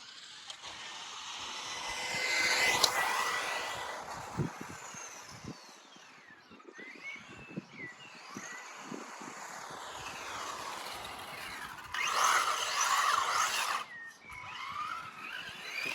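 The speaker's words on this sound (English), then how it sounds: "That was the Tamiya DF02 Plasma Edge on 3S LiPo." A Tamiya DF02 Plasma Edge RC car on 3S LiPo power with a sport tuned motor runs outdoors. Its electric whine rises and falls as it passes, fairly faint, with louder high-pitched bursts.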